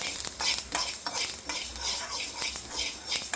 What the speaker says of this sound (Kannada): ಇದನ್ನ ಸಾಸ್ವೆ ಚೆನ್ನಾಗಿ ಹುರ್ಕೋಬೇಕ್ರಿ. ಇವು ಚಟಪಟ ಅನ್ಬೇಕ್ರಿ